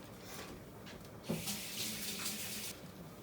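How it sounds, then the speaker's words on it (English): A kitchen tap runs steadily while hands are washed between cooking steps, a close, continuous splash of water with a brief surge as the hands move under the stream. "Let me wash my hands real quick"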